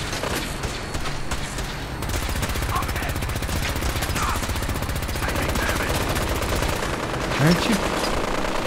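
Rapid automatic gunfire from the Fallout 4 video game rattles nearly nonstop in dense bursts, loud and close, with someone talking briefly over the shooting.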